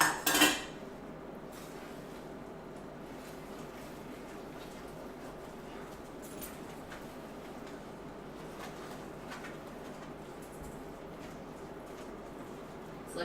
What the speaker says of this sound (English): Let's just give this a little stir.